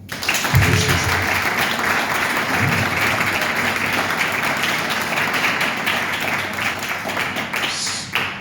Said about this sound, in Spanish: Os merecéis un aplauso.